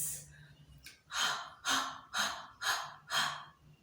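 A person panting with a hand held in front of the mouth, imitating running out of breath: five loud, breathy huffs in a steady rhythm after a short quiet start.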